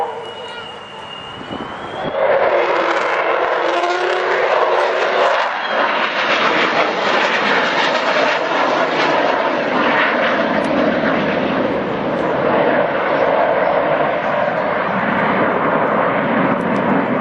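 The Avro Vulcan XH558 bomber makes a low pass at the RAF Cosford airshow, a loud, sustained roar of its jet engines. The roar rises after a quieter start and holds steady as it passes, with crowd murmur underneath.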